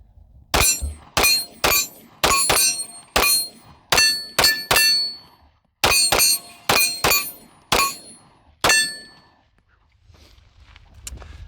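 A S&W Shield X pistol fires a full magazine at steel targets: around fifteen sharp, loud shots in an irregular quick cadence, each ringing off metal. A brief quiet follows.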